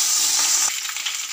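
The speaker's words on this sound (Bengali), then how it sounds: "তেল গরম হয়ে গেলে আমি মাছটা ছেড়ে দেব" Hilsa fish frying in hot oil, with a loud, steady close-up sizzle. A sharper crackling burst about midway drops to a slightly lower, uneven hiss.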